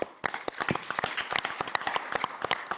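A small audience at a Board of Trustees meeting applauds, with distinct, fairly close individual claps coming in an uneven, brisk patter that builds after a brief quiet start.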